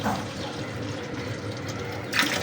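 A steady rush of water poured from a glass over chopped tomatoes for puree, a continuous splashing fill with a brighter splash near the end.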